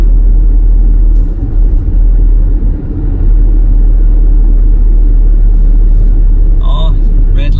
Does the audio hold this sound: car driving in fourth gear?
yes